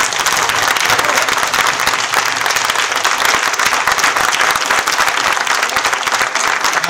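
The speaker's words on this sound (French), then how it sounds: "en vous demandant de vous lever et d'applaudir fortement" Loud, sustained applause from a standing crowd at a political rally, a dense, continuous roar of many clapping hands at full strength throughout.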